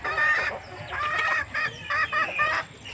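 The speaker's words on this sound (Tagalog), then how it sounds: "Nakahalo pang manok sa loob," Chickens clucking in short repeated bursts, a few birds close by with brief pauses between their calls.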